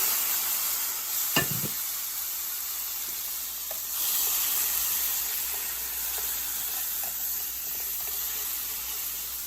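Artichoke hearts stirred into a browned flour roux give a steady close sizzle and hiss, with a sharp scrape of a utensil early on and a swell of sizzling partway through.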